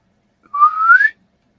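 A single clear whistle rises slowly in pitch for about half a second, alone against silence.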